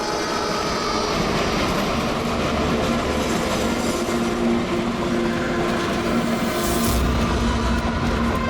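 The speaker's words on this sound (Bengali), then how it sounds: "100 বছর আগে ট্রেনটা টানেলের ভিতরে ঢোকে।" A train rolls into a tunnel, giving a steady, loud rumble with continuous wheel clatter and metallic rail noise throughout, with no voices.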